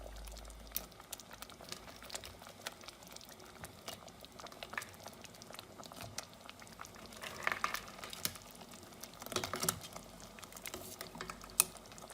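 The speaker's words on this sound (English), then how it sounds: "Once the curry comes to boil" Mangalorean crab curry boils in a pot with whole crabs added, giving a steady soft bubbling and patter, with a few sharper clicks and pops over the bubbling. No voices.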